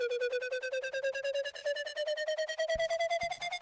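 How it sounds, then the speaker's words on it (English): Synthesized noise runs through a resonant bandpass filter that sweeps steadily upward, giving a pulsing, tonal whoosh with a fast rhythmic flutter. It is moderately quiet and heard alone, with a couple of faint clicks near the end. "this is noise with a filter, with a bandpass filter on it. And the bandpass filter goes up"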